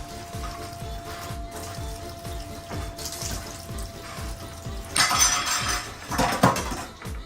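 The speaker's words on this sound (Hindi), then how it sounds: "छन्नी में पानी टपकता है, कड़छी में पानी नहीं टपकता है।" Water dripping and trickling through a strainer and a ladle in a kitchen setting, a close run of rapid small drips with brief louder splashing bursts toward the end, and no talking.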